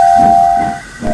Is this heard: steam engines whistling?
yes